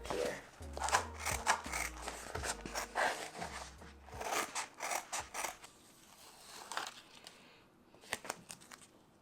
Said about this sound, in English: This piece of felt, so I'm gonna cut it to put on the back of here.